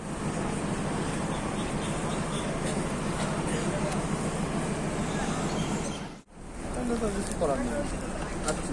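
A train rumbles and rattles steadily along its route, a continuous loud roar from inside the carriage that briefly drops away near the end before resuming, with people talking over it.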